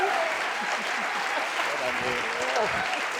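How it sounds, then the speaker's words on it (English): Live audience at a film industry conversation event applauds and cheers for a guest, steady dense clapping filling the whole stretch at close range, with voices in the crowd mixed in. "Let's give her a big cheer."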